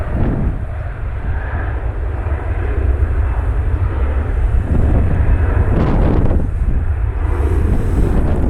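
A brand-new Southwest Airlines airliner named Nevada One landing at Cleveland Hopkins airport, a loud, continuous engine roar mixed with heavy wind buffeting on the microphone, steady throughout with a slight swell near the end.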